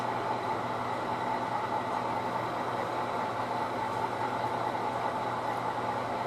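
A steady, loud rumble of a train engine idling and backing up slowly to couple onto a caboose, with continuous low mechanical drone and no voices.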